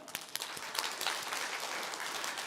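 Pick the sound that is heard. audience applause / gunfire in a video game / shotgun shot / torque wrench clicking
audience applause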